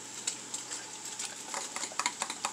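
Eight eggs beaten by hand in a bowl, quick rhythmic whisk taps and clicks against the sides, close and fairly quiet with no talking.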